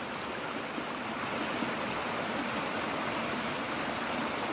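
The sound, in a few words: stream flowing on the Appalachian Trail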